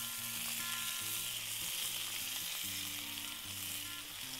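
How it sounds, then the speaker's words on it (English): Bacon, sausages and eggs sizzle together in a cast iron skillet for a breakfast fry-up: a quiet, even hiss that runs throughout, with a low rumble beneath. "add the bacon and sausages back to the pan and heat them up"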